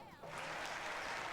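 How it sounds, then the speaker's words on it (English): Applause from the Not For Broadcast video game, a dense wash of crowd clapping that holds steady and fairly faint across the moment, with no voices over it. "Let's do some more claps, more clappy hands."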